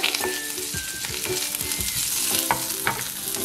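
Curry leaves and a dry red chili crackle and sizzle in hot oil, with brisk stirring taps and spluttering pops close up for a few seconds, and no one speaking.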